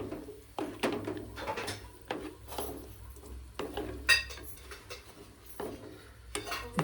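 Dry fruits frying in ghee in a pan are stirred with a metal utensil, making intermittent clinks and scrapes against the pan, fairly close, with a faint background hum between strokes.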